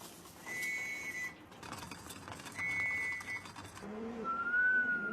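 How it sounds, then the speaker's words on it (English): Three sustained tones from a pigeon training whistle in Taiwan sound in turn, each held about a second, the last lower in pitch, over faint outdoor background noise. "each pigeon will be attuned to the sound of Tsai's main training tool, the whistle"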